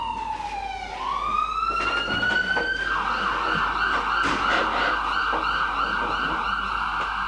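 An ambulance siren wails up from a lower tone into a steady high rising-and-falling cry, loud and close, sustained for several seconds.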